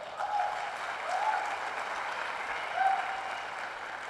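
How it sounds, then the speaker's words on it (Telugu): Applause from an audience at a motivational camp presentation, an even wash of many clapping hands sustained over several seconds, with a few faint tonal chirps and no speech. "మీకు ఒకసారి బిగ్ రౌండ్ ఆఫ్ అప్లాజ్"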